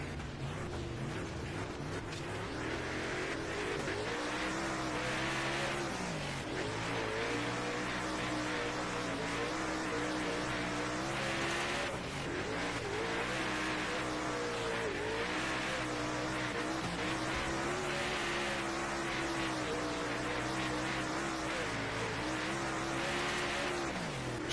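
A late model race car laps during practice at Fairbury in a World of Outlaws racing game, its engine droning steadily and swelling and dipping through the corners, with faint tire squeal and no voices over the sustained run.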